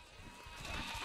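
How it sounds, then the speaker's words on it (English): Sheep bleating inside the video game Overlord, a short wavering cry that swells toward the end of the second, heard alone without talk. "I hear the bleating of lesser creatures"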